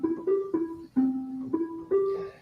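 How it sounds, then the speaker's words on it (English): Short synthesizer notes sent straight through a regular patch cable, a clean, steady tone, six bright stabs in an uneven rhythm, each with a sharp attack and brief decay. "I'll play the straight signal first through the regular cable."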